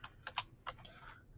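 Five or six light, close keypresses on a computer keyboard come in a quick burst, ending with a softer trailing clatter.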